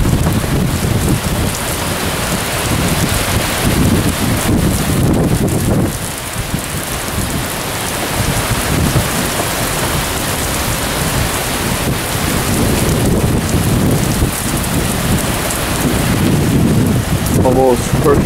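Heavy rain pours steadily with rolling thunder and gusty wind noise, loud and continuous throughout.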